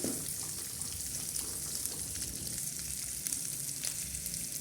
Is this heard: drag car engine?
no